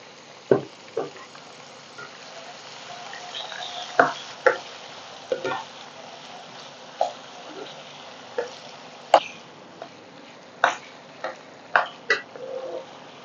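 Potato pieces fry on a hot tawa in a restaurant-style tawa fry: a steady, faint sizzle runs throughout, broken by a dozen sharp metallic spatula taps and scrapes at an irregular pace.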